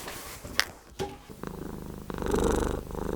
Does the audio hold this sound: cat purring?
yes